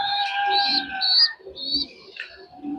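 Young racer pigeons, a pair of male and female birds in a loft, coo softly in low repeated throaty notes, mixed with brighter chirps from other birds nearby.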